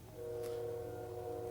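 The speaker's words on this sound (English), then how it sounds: "And you can hear a train going by." A distant train passes outside, heard as a faint, steady low rumble with sustained tonal whistle-like lines holding evenly throughout, quiet and far off.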